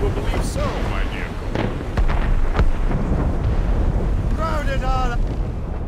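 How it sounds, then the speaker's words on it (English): In Assassin's Creed Rogue, cannon fire deep in fog comes as several dull booms over sea wind and creaking ship noise, while voices talk over it. "Cannon fire. Deep within the fog."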